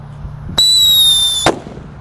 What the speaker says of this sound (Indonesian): Ada mercon happy power 3. Kita nyalakan teman-teman.